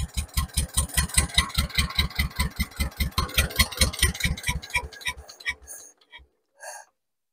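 A 1950 John Deere Model M tractor engine runs with a steady, rapid, loud putting beat that then slows, sputters and cuts out, followed by a brief final burst before silence.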